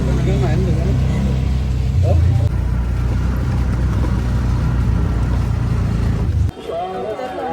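Steady mid-pitched engine drone of an auto rickshaw while riding in rain during a Navratri trip to Ekvira temple, continuous and fairly loud under background voices, dropping abruptly near the end.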